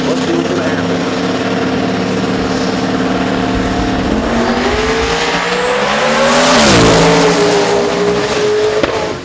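A compound-turbocharged drag racing car at a qualifying session roars at full throttle, its engine pitch climbing steadily and peaking in a loud surge, with commentary talking over it.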